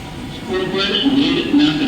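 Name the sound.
Indian Railways local train at a station platform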